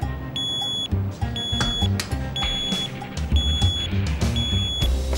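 Repeated high electronic beeps like a smoke alarm, sounding in short evenly spaced bursts over low rumbling background noise inside an elevator.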